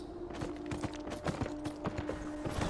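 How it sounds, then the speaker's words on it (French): Horse hooves clip-clop at a steady walking pace during a ride in the video game Beyond: Two Souls, set against a quiet outdoor ambience with a faint steady hum. "une petite balade en cheval"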